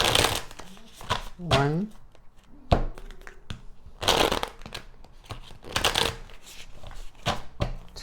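Tarot cards being shuffled and drawn during a reading, with soft riffling and papery flicks plus a few taps as cards land on a table, mixed with a person speaking throughout.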